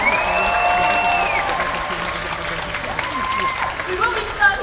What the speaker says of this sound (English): Give a clap for big